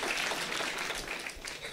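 Applause from an audience at a diaspora gathering in Vancouver, a soft, dense crowd clapping heard briefly at a moderate distance with no voices.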